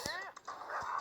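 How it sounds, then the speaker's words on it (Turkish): Dog barking in the Kingdom Rush tower-defense game, a short yelping bark with a whiny edge, mixed with other game sounds and a voice over the top. "Hemen köpekler var."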